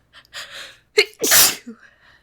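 A person sneezes loudly and up close, with a sharp intake of breath before it, a short catch, then the explosive burst, followed by a faint sound afterward.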